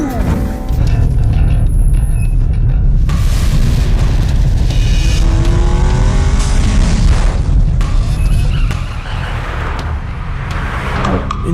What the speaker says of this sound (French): Une voiture arrive derrière.